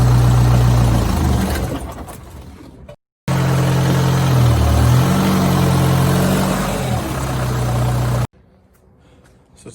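A Volkswagen Jetta TDI diesel car drives with a loud, steady engine drone that rises and dips as it changes speed, cutting out briefly mid-way and dropping off near the end.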